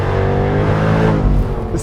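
A 2021 Jaguar F-Type R with 575 horsepower accelerates hard through a corner with traction control off, its engine roaring loud and close in a sustained, rising note with no voices.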